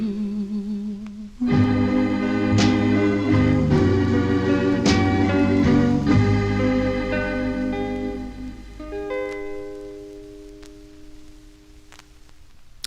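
A 1959 doo-wop record plays with harmonized vocal group singing and backing instruments. Held chords ring out and the song fades near the end, with no talk over it.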